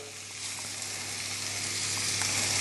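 Pork stir-frying in a pan, a steady, dense sizzle that holds at an even level and builds slightly, with no talk over it.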